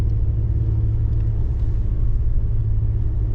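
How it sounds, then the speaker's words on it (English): Vehicle pulling a camper, accelerating in second gear at about 2,000 RPM: a steady, loud, low engine rumble with road drone, continuous and without talk. "that's second gear, so put my foot down in it with the camper on"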